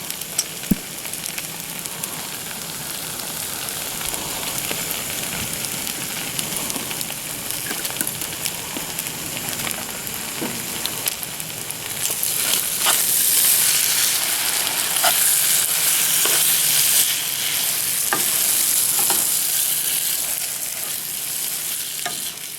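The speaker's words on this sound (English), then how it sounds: "we've been letting this simmer for a little while in order to let the flavors concentrate" Chili sauce bubbles in a pot with a steady, close, crackling sizzle and stirring scrapes. It grows somewhat louder partway through and carries on without speech.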